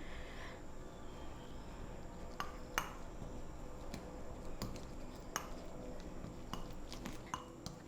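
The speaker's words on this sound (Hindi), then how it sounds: "अब मैं इसको एक कांटे की मदद से मिक्स कर लूँगी।" A fork mixing a face mask of milk and other ingredients in a bowl, faint scattered clinks and taps against the dish over a quiet background hiss.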